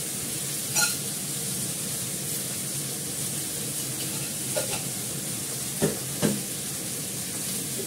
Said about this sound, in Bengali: এটা একটু নাড়াচাড়া করবো, করে ঢাকা দিয়ে দেবো।